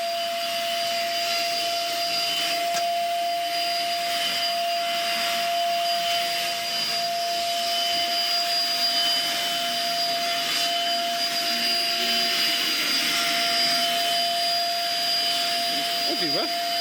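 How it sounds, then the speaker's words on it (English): A household vacuum cleaner runs steadily throughout with a continuous whine and broadband roar, a constant high tone over the motor noise and a faint voice beneath. "Vacuum."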